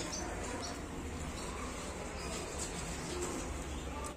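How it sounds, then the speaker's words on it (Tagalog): Many birds, including parakeets and lovebirds, at a pet market in Riyadh, Saudi Arabia: a dense, continuous chorus of cooing and chirping with busy market hubbub underneath, steady and moderately close. "Daming bilihan ng ibon dito guys."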